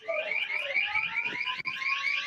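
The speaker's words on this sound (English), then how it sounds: "When she Or- shot or- through the glass, I think it Yeah, burglar alarm." A school burglar alarm, set off when a gunshot breaks glass, wails in a steady repeating electronic pulsing tone, loud and continuous, with a brief dropout near the end.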